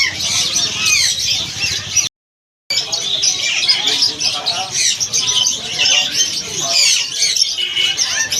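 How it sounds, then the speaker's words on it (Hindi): Dense chorus of parrots of many kinds squawking, chirping and calling at a busy bird market, continuous and close, broken by one brief gap of silence, with a voice talking faintly underneath. "तोते हर किस्म के तोते,"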